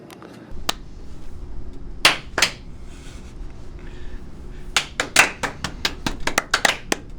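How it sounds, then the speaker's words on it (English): A small group claps in scattered, uneven bursts: a few isolated claps at first, then a quicker flurry of sharp, close hand claps toward the end. "your guys' claps are on point"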